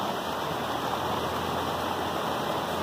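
Floodwater rushes through an overflowing creek on a farm in Minas Gerais after heavy rains. It makes a loud, steady, dense roar of churning water that runs unbroken throughout.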